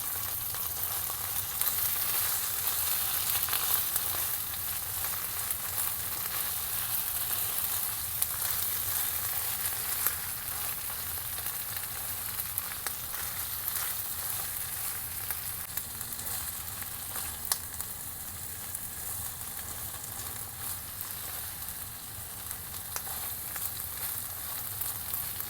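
A cheese omelette with tomatoes and a little beef fries and gets stirred in a pan, giving a steady, close, even sizzle that runs the whole time with no talking.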